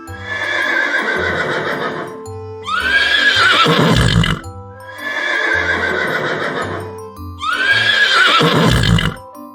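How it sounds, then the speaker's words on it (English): A horse neighs loudly and repeatedly, long whinnies coming in a steady pattern of four calls, close and clear with no talking. "Horse says neigh."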